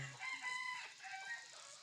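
A jungle fowl rooster offered for sale crows once, a short, faint, harmonic cock-a-doodle-doo heard alone.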